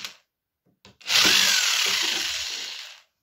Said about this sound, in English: So I'm going to drill these things out of there.